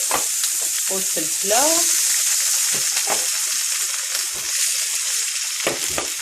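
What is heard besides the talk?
onion frying in hot oil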